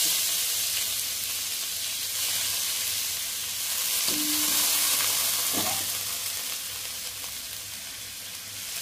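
Boiled, drained tender peepal leaves tossed in a hot frying pan for a ghonto dish, giving a steady sizzle and hiss with a couple of brief spatula scrapes midway; no voices.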